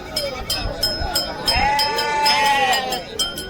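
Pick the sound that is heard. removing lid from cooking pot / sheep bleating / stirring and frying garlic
sheep bleating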